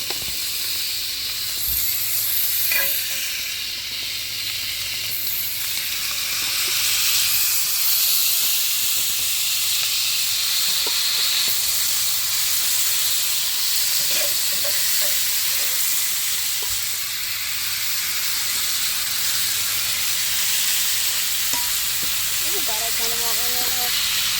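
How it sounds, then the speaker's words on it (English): Colossal shrimp sizzling on a grill, a broad, steady hiss that lasts the whole time, close and loud, with a few faint clicks and light taps mixed in. "Going on the grill. Colossal shrimp."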